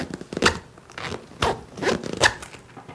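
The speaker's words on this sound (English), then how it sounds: "Like you can see as I unzip this, how it kind of pulls." A backpack zipper being pulled open in a few short raspy bursts, close up, with brief pauses between each tug as it catches.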